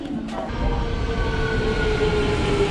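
A train rolls past at close range, its steady loud rumble and wheel noise starting abruptly and holding throughout the short stretch, drowning out everything else.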